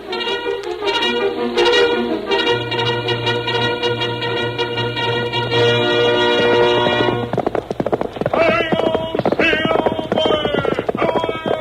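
Galloping horse hooves clip-clop in a fast steady rhythm, loud and close, first under swelling orchestral music and then ringing out more plainly as the music drops away.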